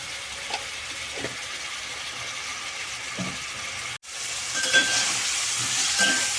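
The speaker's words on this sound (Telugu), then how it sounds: "ఈ ఉల్లిపాయలు అంటే మగ్గుతూ ఉంటాయి." Chopped onions with green chilli, salt and turmeric simmer in a pan over a low flame, giving a steady soft sizzle broken by a few scraping stirs, with a brief sharp dropout midway and slightly brighter sizzling afterward.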